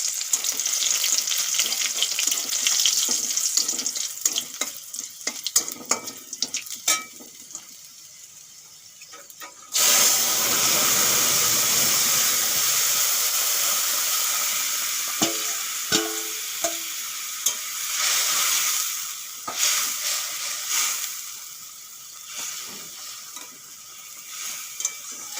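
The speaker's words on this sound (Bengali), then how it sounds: "তেল গরম হয়ে গেছে, ফোড়নে দিয়ে দেব জিরে। আর দিয়ে দেব 3 কোয়া রসুন থেতো করে নিয়েছি," Cumin seeds and three crushed garlic cloves hit hot oil in a pan as a tempering for a Bengali fish curry, bursting into a loud, steady sizzle after some initial clattering, with the frying dying down gradually and briefly disturbed by stirring.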